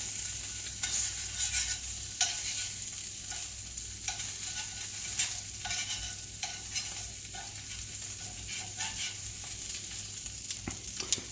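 A5 wagyu strip fries in a pan that started with no oil, a steady close sizzle with faint crackles and occasional utensil scrapes, and no voices.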